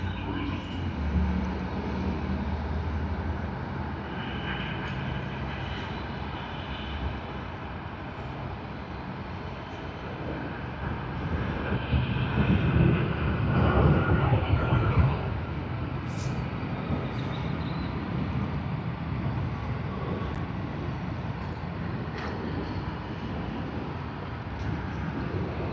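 Jet airliners at Sydney Airport, including a Qantas arrival from Adelaide and a Delta Airbus A350-900, give a steady broadband engine roar that swells to a peak midway before holding level, with a voice talking over it.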